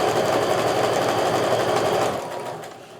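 Sewing machine stitching a quilt block along a drawn line, a fast steady whirring of the needle close by that slows and fades over the last second.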